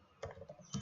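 Keys clatter in two short bursts of typing on a computer keyboard while a web server's index file is edited, close and fairly quiet with a brief pause between.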